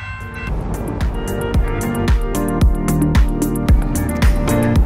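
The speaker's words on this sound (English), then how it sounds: "I either had to take the sprinter, which is this train" A Dutch NS Sprinter train rolls past nearby, with a steady loud rumble and rhythmic clacks of wheels over rail joints repeating roughly every half second.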